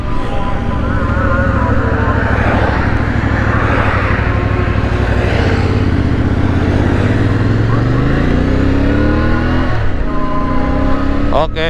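A CFMOTO 450MT touring motorcycle runs on the road under a steady engine drone while the rider holds revs below 6,000 RPM, with wind rush throughout and the pitch climbing near the end.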